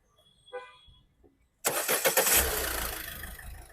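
A 2019 Ford EcoSport Titanium+ engine cranks and catches after a quiet pause, then revs in a few quick rising pulses before settling into a steady idle, heard up close.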